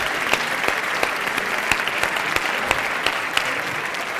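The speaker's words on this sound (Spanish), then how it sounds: "Pues otro aplauso, Edgar." At the Gastrónoma 2019 culinary event, an audience gives chef Édgar Núñez a round of applause, dense, loud steady clapping from a large crowd with individual sharp claps standing out.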